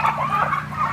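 Pastured turkeys raised outdoors on a farm gobbling close by, a warbling chorus of several birds calling over one another for a moment.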